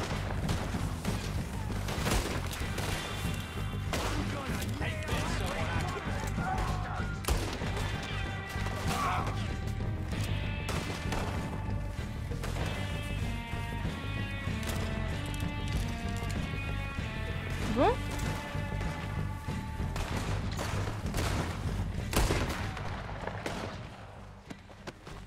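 Gunfire in a video game shootout, repeated sharp shots scattered over a steady bed of game music and ambience, moderately loud throughout.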